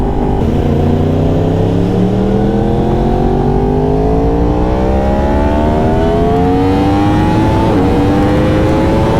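Motorcycle accelerates hard in a high-speed pull, its engine note climbing steadily through the revs with a brief dip at a gear change before rising again, loud and close.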